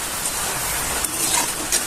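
Steady rain falling outside, a continuous hiss of drops with a few louder patters, heard on its own.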